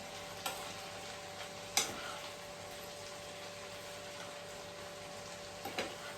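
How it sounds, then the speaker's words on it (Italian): Garlic and chili pepper frying in oil in a pan, a soft steady sizzle with a few sharp clicks and clatters of utensils against the pan, quiet and close, no talking. "sentite che soffrigge bene bene"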